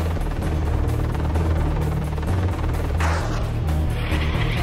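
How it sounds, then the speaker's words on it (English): Heavy, steady Apache attack helicopter rotor drone with a low throbbing thump and engine roar, loud and continuous throughout. "it's one of the fastest and stealthiest attack helicopters in the world"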